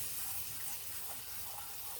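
Water from a cup poured into a pan of pork chop and onion gravy while it is stirred; a steady, soft running-water wash throughout, fairly quiet and with no talking.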